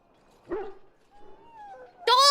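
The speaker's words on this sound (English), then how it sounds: "Dog!" A dog in the video game Dragon Age: Origins gives a short yip, then a thin whimpering whine, and finally a loud close bark.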